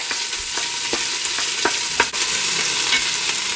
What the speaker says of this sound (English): So we're just going to start stirring the onions and the garlic.